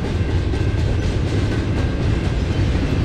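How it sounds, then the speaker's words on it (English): A BNSF train rumbles past nearby, a loud continuous roar with faint rhythmic clatter of wheels on the rails. "trains go by."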